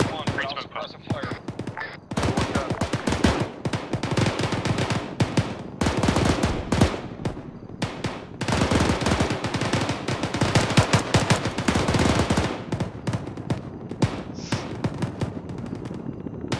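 Suppressive gunfire during a military field training exercise: dense bursts of rapid automatic fire and overlapping shots, loud and sustained in long volleys with brief gaps, with radio-style voices in between.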